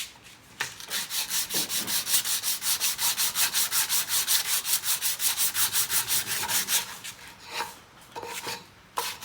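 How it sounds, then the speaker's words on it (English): Wooden play button being sanded by hand, a rapid run of regular rasping strokes, close and fairly loud, thinning to a few scattered rubs toward the end. "get this in here so I can sand it properly"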